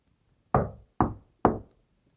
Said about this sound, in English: Just respond to the knocking.